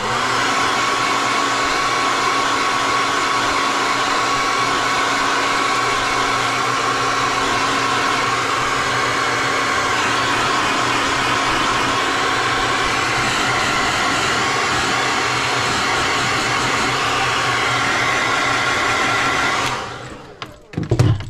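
Loud, steady roar of a hair dryer drying paint on a crankbait, running continuously at close range, then abruptly switching off near the end.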